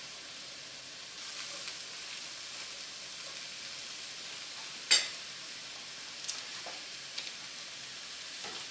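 Fresh small mushrooms sizzle in a pan for chicken Alfredo, giving a steady, even frying hiss throughout, broken by one sharp clink and a couple of lighter taps.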